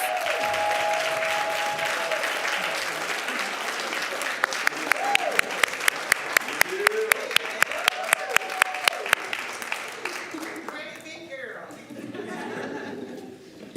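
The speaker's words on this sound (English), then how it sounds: "give her a big round of applause" Applause at a Duncanville ISD board meeting, honoring a student as her family and friends stand. A warm burst of clapping with some rhythmic, unison claps in the middle and a little laughter, tapering off as the room quiets.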